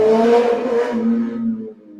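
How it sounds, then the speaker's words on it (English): A car passes outside an open window, a loud, close engine sweep that rises and then fades over about two seconds, with no voices. "I just heard a car go by"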